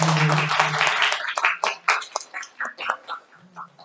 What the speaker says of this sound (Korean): 마지막으로 한번 더 박수 해주시면